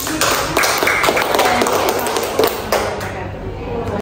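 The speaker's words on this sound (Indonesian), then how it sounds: "Mari kita tepuk tangan untuk" Audience applause at a teachers' school-curriculum meeting, a dense steady patter of many hands clapping throughout and fading slightly toward the end.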